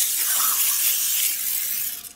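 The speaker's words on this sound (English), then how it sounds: "It's called like ghee or jihee spray." A can of ghee cooking spray releases one close, loud, continuous hiss lasting about two seconds before cutting off.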